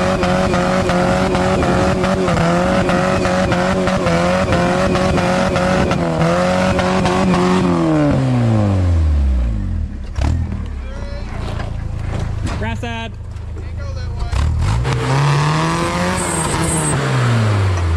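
A loud, roaring engine exhaust that rises and falls in pitch as the vehicle revs and shifts, with deep sweeping drones throughout.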